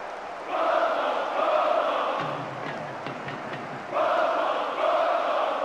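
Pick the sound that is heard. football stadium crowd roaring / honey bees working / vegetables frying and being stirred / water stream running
football stadium crowd roaring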